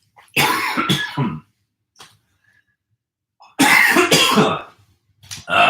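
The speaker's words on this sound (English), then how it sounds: "Nice little coughing fit to start the workout." Close, loud coughing fit during a home workout, two long bursts of harsh hacking coughs separated by a quiet pause, with a shorter cough starting at the end.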